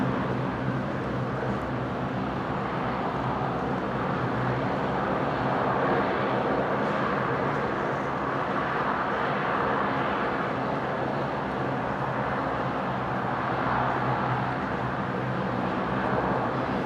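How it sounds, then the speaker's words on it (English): A Qantas Boeing 737 jet at Brisbane Airport gives a steady, broad engine roar that holds at an even level for the whole stretch, with no talk over it. "there goes Qantas 1078 on the Mac cam. The 73, which is heading to Mount Isa"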